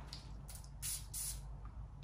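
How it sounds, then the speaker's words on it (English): A perfume atomizer on a fragrance bottle with a solid metal lid gives several short, soft hissing sprays, the two middle ones longest and strongest, close and quiet. "let's give this a quick spray"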